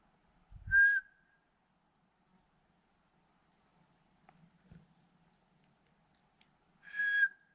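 Two short, clear human whistles ring out near the start and end of the quiet outdoor stretch, each a single rising tone, with a faint thump between them.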